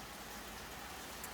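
Steady rain pours down outdoors, a dense, even hiss of drops with no voices, unbroken for the whole stretch.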